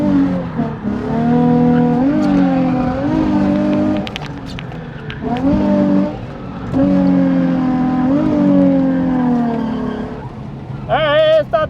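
A completely stock Nissan 350Z drifting, its engine revving hard in rising and falling pulls with tires squealing. It is loud and close, with a person talking over the engine.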